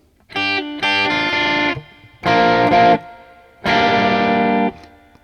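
Distorted electric guitar plays chords in short bursts and longer held stabs, loud and near, with gaps of silence between phrases.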